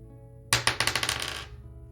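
Dice tumbling onto a hard surface, a sharp first hit followed by a quick rattling run of smaller clicks that fades over about a second, with no talk.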